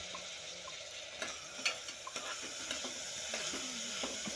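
Tomatoes and potatoes sizzle softly in a pan for cabbage pulao, with scattered utensil clicks and scrapes from stirring over a low continuous frying hiss. No voices are present.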